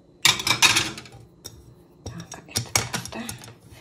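Cleaned plates and dishes being handled, with several short clinks and clatters of crockery and cutlery in two bursts, close and fairly quiet, with faint voices.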